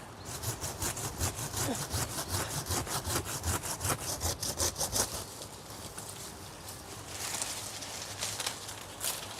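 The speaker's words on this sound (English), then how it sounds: "of sawing it as near to the base as I possibly can" A hand saw cuts back and forth through a small tree trunk close to its base in a garden, with steady rhythmic rasping strokes for about five seconds. Slower, scattered scraping follows, with a faint bird in the background.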